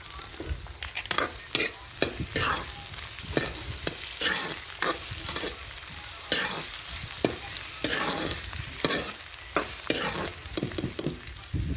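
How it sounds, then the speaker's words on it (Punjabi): Long-sliced onions frying in hot oil in a pan, a loud close crackling sizzle with frequent scraping stir strokes and spoon knocks throughout, no talking. "ਸਭ ਤੋਂ ਪਹਿਲਾਂ ਆਪਾਂ ਇੱਥੇ ਪਿਆਜ਼ ਭੁੰਨਾਂਗੇ"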